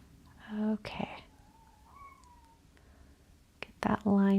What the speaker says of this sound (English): Can you guys hear Kevin at the door meowing? He's doing a little chirpy meow.